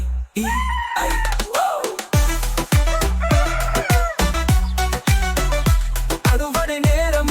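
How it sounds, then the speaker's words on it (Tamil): A rooster crows repeatedly over a bouncy children's farm song from an animated Old MacDonald cartoon, the loud cock-a-doodle-doos and clucks riding on top of steady rhythmic music. "அந்த பண்ணை சேவல் இருந்தது"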